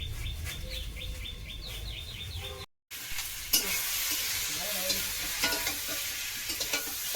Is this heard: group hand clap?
no